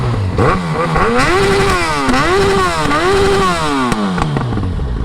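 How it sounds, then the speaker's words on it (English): A Yamaha FZ1 Fazer motorcycle engine revs up and down repeatedly, loud and close, with sharp crackling pops of backfire between the revs. "You can hear the cracking sound, the backfire sound."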